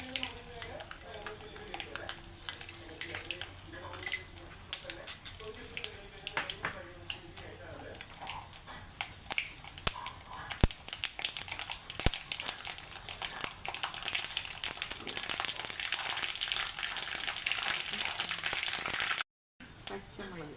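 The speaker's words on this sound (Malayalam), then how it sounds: "എണ്ണ ചൂടായി, കടുകിടാം." Mustard seeds splutter and crackle in hot oil for a homemade Kerala-style tender mango pickle, steady sizzling with sharp pops and occasional clinks of a spoon against the pan, while a person talks.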